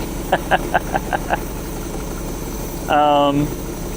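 A Lexus LS400 left abandoned for ten years idles with a steady low hum, broken early on by a run of short, sharp clicks or taps and later by a brief higher whine, with no talking.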